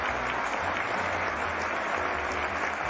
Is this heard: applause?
yes